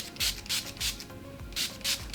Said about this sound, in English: I'm gonna set this using Dazzle Me Get a Grip setting spray to set this look